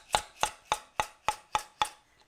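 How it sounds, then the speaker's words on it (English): Seven sharp, evenly spaced metallic taps from a small hammer knocking bolts loose on a Nissan Skyline GT-R RB26 engine during individual throttle body kit removal, close and clear with no talk. "I'm just going to use a little hammer."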